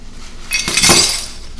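Tiny glass shards clink and rattle as they are cleaned off a cast concrete vase, a bright, crunchy jingle that swells in the middle, then fades, close up and with no speech.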